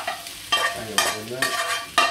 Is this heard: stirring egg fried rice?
yes